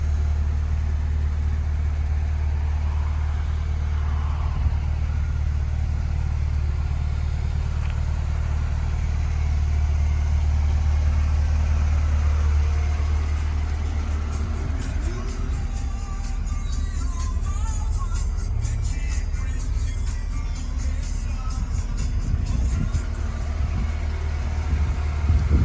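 A Porsche 944 engine idling steadily, a low continuous rumble that holds even throughout with some added mechanical clatter in the latter half.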